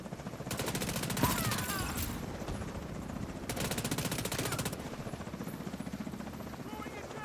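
Rapid SMG fire in The Division 2 crackles in two long sustained bursts of fast, evenly spaced shots, close and loud, with game ambience and a voice beneath.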